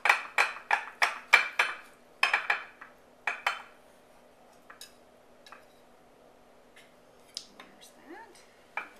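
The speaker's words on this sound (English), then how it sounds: "So I'm going to start with this end, and I'm using a serrated knife." Serrated knife sawing through a loaf of orange yogurt bread, a quick run of crisp, rhythmic crunchy strokes up close, then a pause and a few lighter scrapes and taps.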